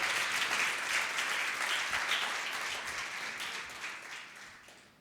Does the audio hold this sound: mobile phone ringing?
no